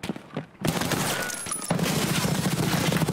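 Gunfire in the Escape From Tarkov shooter game, a few sharp shots followed by a dense rapid burst of automatic fire, loud and close, continuing to the end.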